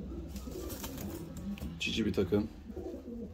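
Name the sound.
fancy show pigeons cooing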